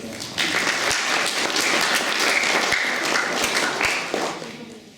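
Applause from an audience at a folk festival event, a dense wash of clapping that swells quickly, holds steady for several seconds, then fades out.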